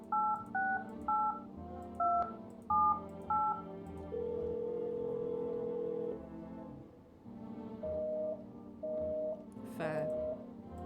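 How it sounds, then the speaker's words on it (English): A telephone keypad beeps through a run of short two-tone dialing presses, then a long steady tone and a few spaced single beeps, with faint background sounds underneath. "What happens if I phone my neighbour now?"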